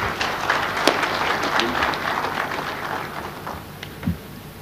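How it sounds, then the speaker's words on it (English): A conference audience at a Kakamega County investment event applauds the Governor of Siaya: dense, steady clapping fills the room at moderate loudness, with a few sharper claps standing out and the ovation thinning slightly toward the end. "A big round of applause to Governor Siaya"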